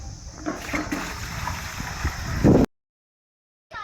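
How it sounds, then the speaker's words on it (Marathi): Water gurgles and splashes as it is hauled up from a village well and poured, ending in a loud gush before sudden silence. "बघा आता मी काढतोय पाणी"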